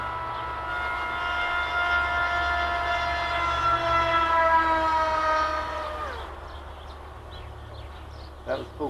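A no-name gyro stabilizer spins at full throttle with a steady high whine and stacked rising harmonics over low rumble for about six seconds, then winds down abruptly into quieter clatter and a couple of bumps.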